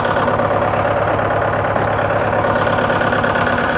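Bobcat T770 skid-steer diesel engine idling rough on three cylinders with a faulty number one injector, a steady loud drone with an uneven underlying pulse, no voices.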